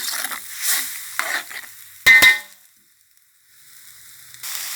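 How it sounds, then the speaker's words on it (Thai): A dry southern Thai fish kidney curry paste stir-fries in a pan, bursts of scraping and sizzling with two sharp metallic clanks of the utensil midway, then a quiet pause before the frying resumes. "ก็ผัดให้แห้งเลยนะคะ"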